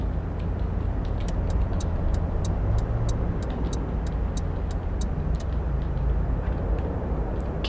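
Steady engine drone from an Infiniti Q60 3.0 Concept 2016 in City Car Driving, cruising along a road at constant speed with a faint regular ticking on top, loud and unbroken, with no talk.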